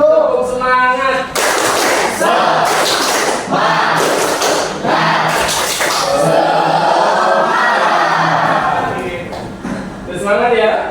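A school class doing rhythmic spirit clapping together, bursts of loud, patterned claps and slaps in sequence with a teacher's voice leading and speaking between the rounds, close and lively in a room.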